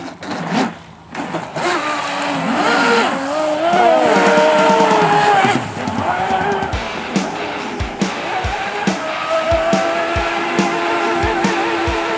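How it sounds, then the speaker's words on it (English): Radio-controlled model boats running on a lake give off a high, buzzing motor whine that rises and falls as they speed past, with faint voices in the background. "get ready to run the boats out here at a new lake"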